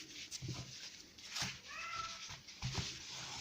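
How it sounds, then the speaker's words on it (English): A cat meows several times at moderate distance, the cries rising and falling over a faint background hum. "What you hear in the background is my cat."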